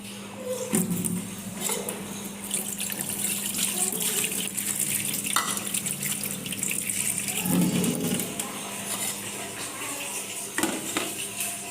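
Water running from a tap while a bowl is washed, a continuous gushing stream with intermittent clinks and knocks of dishware, and faint voices at times in the background.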